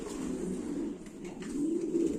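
Pigeons coo softly and continuously nearby, low throaty warbling rising and falling over a quiet background.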